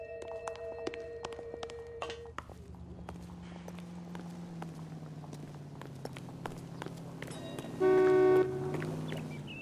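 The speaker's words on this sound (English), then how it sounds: "Don't honk at me." A single car horn blast in the video game L.A. Noire sounds loud and steady for under a second, rising over footsteps and street ambience.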